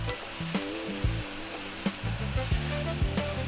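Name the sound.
chunky eggplant pieces frying and stirred in beef curry pan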